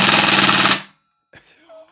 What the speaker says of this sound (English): Let's do a quick burst of auto before we get to chrono in this thing.